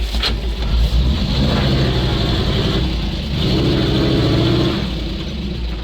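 A GAZ-66 truck stuck in a swamp with all its differential locks engaged revs its engine hard, a loud close roar that surges and holds without easing, with no talk.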